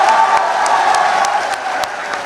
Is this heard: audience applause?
yes